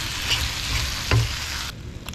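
Paprika and cumin fry in a pan over a camp stove outdoors, giving a continuous close sizzle with a scrape of stirring partway through; no voices.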